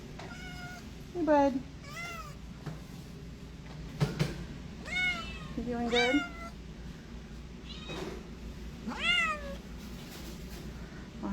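Several shelter cats meow in repeated short calls across the stretch, some near and loud, others softer, with a person speaking gently over them in a quiet room.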